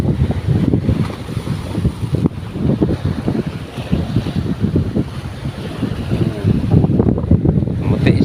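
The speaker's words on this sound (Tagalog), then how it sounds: "Lalaki mga bro ng alon." Heavy, rumbling sea surf and wind buffeting the microphone, with big ocean waves surging and crashing in an irregular rhythm.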